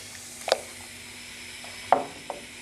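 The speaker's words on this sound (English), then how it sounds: "Sizzles, bubbles, even better when you do that." A homemade orange squash mixture sizzles and fizzes after cream of tartar is stirred in, with a few sharp clinks and splashes over a faint, steady bubbling hiss, close up and quiet, with no voices.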